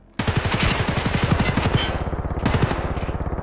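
A loud, close automatic weapon firing BS ammo in Escape from Tarkov Arena unleashes a long rapid burst of evenly spaced shots, breaks briefly, then fires a second shorter burst.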